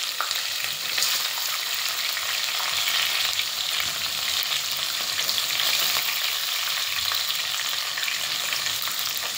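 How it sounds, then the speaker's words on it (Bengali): Onions for a duck curry sizzle steadily in a hot pan, a dense, even frying hiss that stays loud and constant throughout with no talking. "পেঁয়াজটা আমি ভুনে নেবো সুন্দর করে"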